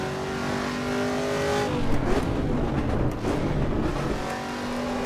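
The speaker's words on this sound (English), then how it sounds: "Yeah, you see I blipped it there, and the car wasn't complaining. You'll hear me do it here as well" Race car engine in the Assetto Corsa EVO racing game, a loud, steady drone with throttle blips that rise and fall in pitch as the engine revs, alone with no voices.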